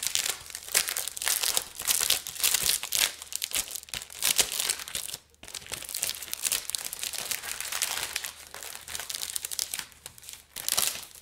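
Paper and plastic packaging of a tightly glued parcel crinkle and tear continuously as it is pulled open up close, with dense rustling bursts and a brief pause midway.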